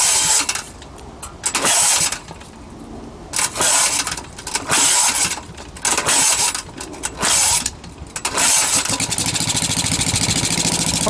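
A 1948 Briggs and Stratton WMB small engine sputters and catches on a cold start, coughing in uneven bursts before settling into a steady, loud continuous run.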